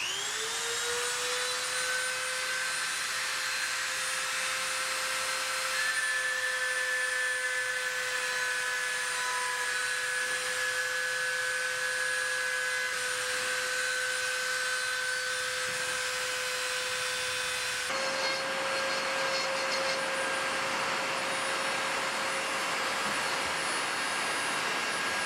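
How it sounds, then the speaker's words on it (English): A Dremel rotary tool runs steadily on a deer rifle stock during bedding work, a loud, continuous high whine that shifts pitch partway through and carries on alone without pauses. "I figure I'm fixing to be using a Dremel to do my work here, so you know it's going to be noisy no matter what."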